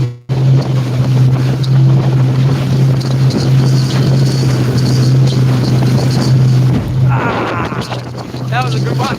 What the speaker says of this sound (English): that wind's right up